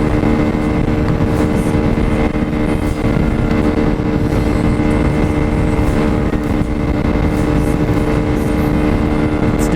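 A Lifan KP Mini 150cc motorcycle fitted with an upgraded intake and a 34-tooth sprocket, climbing a hill in fourth gear. Its engine drones loud and steady throughout, with a constant rumble and no pauses.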